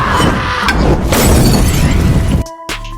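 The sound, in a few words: explosion in a film scene, woman blows herself up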